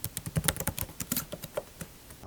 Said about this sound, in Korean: 이게 갤럭시북 5 프로 타이핑 소리입니다.